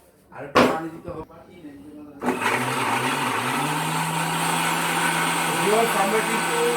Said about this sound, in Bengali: আমরা কিন্তু একদম 10 সেকেন্ডে আপনি আদাটা আমরা পেস্ট করে ফেলছি